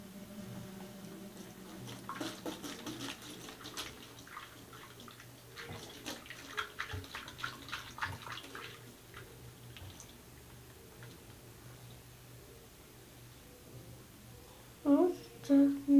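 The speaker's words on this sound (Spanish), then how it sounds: "Entonces le echamos el agua" Water is poured into a mixture, giving a soft, steady splashing trickle with faint clinks over low room noise. The pour fades out toward the end before a couple of brief louder knocks.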